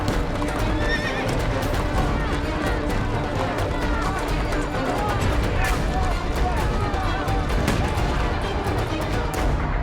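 Mounted police horses charge a crowd of demonstrators: dense, continuous clattering hooves and repeated neighing, with crowd noise and sharp bangs mixed into the steady roar.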